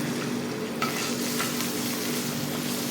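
Chopped garlic hits hot sesame oil and sizzles steadily, a loud continuous frying hiss with a few stirring scrapes, as chicken chow mein is cooked on a stove.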